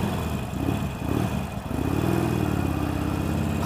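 A Harley-Davidson Forty-Eight motorcycle engine runs close by with a deep, steady rumble that dips briefly near the middle, then settles into an even, loping drone with no voices.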